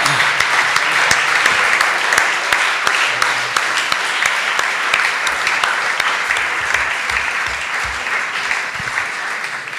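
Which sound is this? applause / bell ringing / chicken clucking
applause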